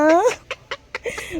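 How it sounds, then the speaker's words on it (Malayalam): Chicks clucking and peeping close by in a short run of bright, chirpy calls: a longer call first, then several quick separate peeps. "അതാ കുഞ്ഞുട്ടി ആ കോഴിക്കുഞ്ഞുങ്ങളെയും കൊണ്ടുവന്ന് വിടും"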